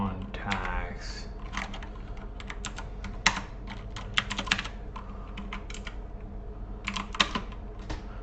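Rapid keystrokes on a computer keyboard while entering Python code, irregular bursts of close, crisp clicks over a steady low hum, with a few louder key strikes standing out.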